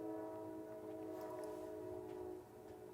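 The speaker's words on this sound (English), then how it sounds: "The train's coming through by my house, by the way." Train rumbling past near a house, a steady tonal drone like a sustained horn holding for a couple of seconds before easing off, faint and distant.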